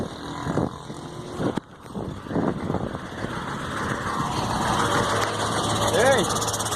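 A Mercedes-Benz 1634 truck engine, which makes an odd noise only when the accelerator is released, rumbles nearby with a broad, steady roar. People talk over it, and there is a brief dip in the middle.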